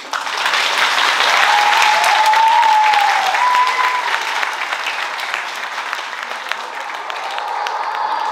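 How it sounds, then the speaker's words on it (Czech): Sustained applause from a school assembly audience for the school cheerleaders at a school performance evening, dense steady clapping for about eight seconds with a faint whistle or cheer rising near the start. "a teď prosím ještě potlesk pro naše roztleskávačky."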